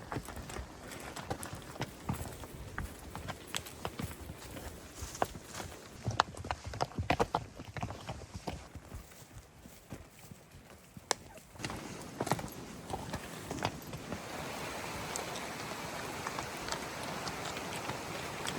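Hooves of horses on a backcountry ride in the Northwest Territories clip-clop in a steady irregular rhythm, fairly close but soft, with rustling and tack noise and a hissing wash in the later part.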